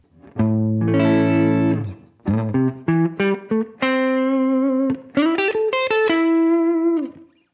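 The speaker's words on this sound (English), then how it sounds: "So now we'll engage Cloudburst with minimum decay." Electric guitar notes and chords played through a Strymon Cloudburst ambient reverb pedal set to minimum decay, loud and alone, each phrase ringing briefly into a short, small-room tail before the next.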